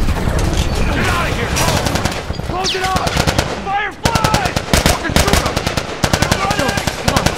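Rapid bursts of automatic gunfire from a firefight in the video game The Last of Us, loud and close, with dense overlapping shots nearly throughout and brief shouted voices breaking in between volleys.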